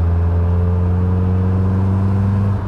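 A supercharged Caterham Seven 620S engine, 310 bhp, holds a loud, steady, deep drone at a near-constant pitch, close up with no one talking.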